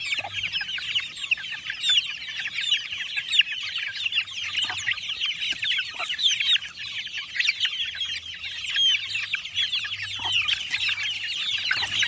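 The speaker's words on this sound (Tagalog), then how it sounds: "Tuwang-tuwa yung mga sisiyo natin." Young chicks chirp and cluck steadily while being fed, a dense, continuous high twittering that stays close and lively. No talking is heard.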